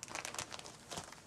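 A plastic bag holding leftover stencils crinkles up close in a quick run of dry, crackly rustles, with no voices.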